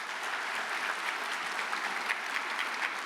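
Steady audience applause at a high school class of 2024 honors convocation, a dense, even patter of many hands clapping with no voices standing out.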